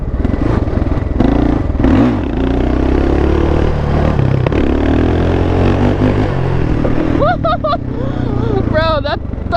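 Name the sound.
ATV engine revving under thumb throttle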